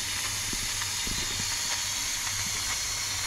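A pressure cooker releases steam after cooking native chicken tinola, a continuous loud hiss with faint rattling clicks underneath, steady and close throughout.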